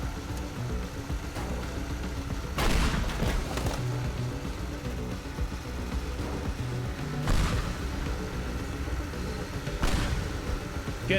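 Explosions set off in the destruction game Teardown, several booming blasts at irregular intervals over a steady low rumble, fairly loud and without talk.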